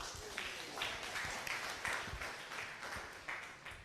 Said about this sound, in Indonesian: Oke, boleh minta tepuk tangannya.